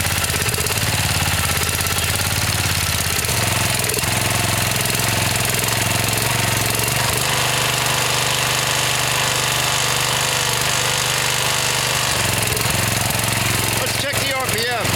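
A Subaru EX21 7.0 hp single-cylinder small engine idles very low with a steady, loud, rough chugging throb that runs continuously, with a brief change in tone near the end.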